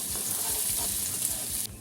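Chopped onions sizzling in hot oil in a pan with whole cumin and fennel, a steady close hiss that stops abruptly at the end.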